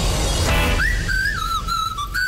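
A person whistles a lilting tune alone, a clear sustained melody with gliding pitch that carries on steadily to the end.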